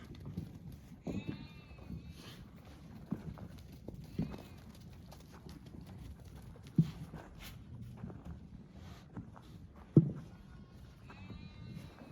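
Sheep bleat now and then over a quiet pen, with scattered hoof clops and a couple of sharp knocks, during lamb vaccination.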